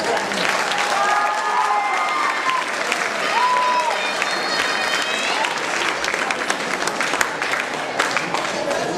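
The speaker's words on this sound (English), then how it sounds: "applause for everybody?" Sustained audience applause at a middle school academic awards ceremony, dense steady clapping from a crowd lasting several seconds, with scattered voices underneath.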